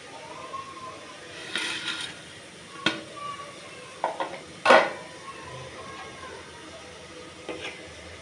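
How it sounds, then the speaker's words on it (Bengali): Chowmein noodles go into a pan of vegetables and get stirred, with faint sizzling under scattered clinks and scrapes of a utensil against the pan, several sharper knocks standing out. "এবারে চাউমিনটা দিয়ে দেবো"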